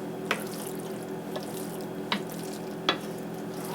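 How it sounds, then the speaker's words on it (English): Water runs steadily from a sink tap while hands are washed, a constant hiss broken by a few soft splashes and knocks. "I'm going to go wash my hands."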